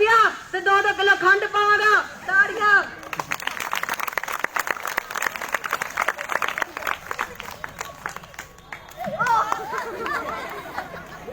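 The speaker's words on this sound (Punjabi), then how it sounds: "ਤਾਂ ਤੁਸੀਂ ਮੇਰਾ ਤਾੜੀ ਨਾਲ ਸਵਾਗਤ ਕਰਨਾ ਜੇ ਤੁਸੀਂ ਤਾੜੀਆਂ ਮਾਰੀਆਂ" Audience at a Punjabi stage play bursts into sustained applause and chatter for several seconds, set between stretches of a performer's amplified speech before and after.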